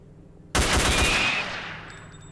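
Gunfire from the video game S.T.A.L.K.E.R.: Call of Pripyat with the Misery mod: a sudden, loud automatic burst of several rapid shots that trails off into a fading echo.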